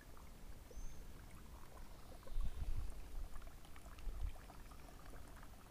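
Water from a garden fountain runs into a small bucket outdoors, a faint, steady splashing trickle with a few slightly louder gurgles and no talking.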